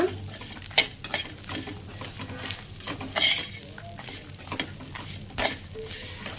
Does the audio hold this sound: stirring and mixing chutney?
yes